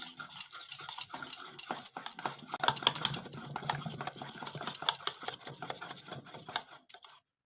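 Batter with baking soda being mixed by hand in a bowl for a Bengali pitha, a busy run of rapid clinking, scraping stirs that fade out near the end, close and fairly loud with no talking.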